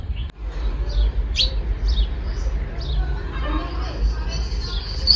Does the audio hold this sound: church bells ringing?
no